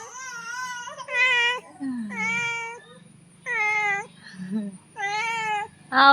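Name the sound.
cat meowing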